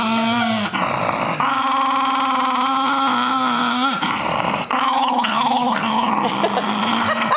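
A dog growls close by in a loud, sustained, rumbling snarl that runs nearly unbroken for several seconds, with a few brief breaks and shifts in pitch.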